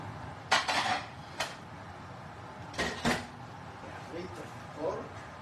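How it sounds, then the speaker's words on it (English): A cooked dish of pork chops with figs is lifted out among clattering plates and cutlery, with a few distinct clinks and rattles in short bursts against quiet kitchen background. "we take this dish out"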